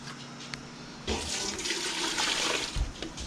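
White vinegar pours in a steady splashing stream, starting abruptly after a quiet hum and continuing close up for a few seconds, fairly soft overall.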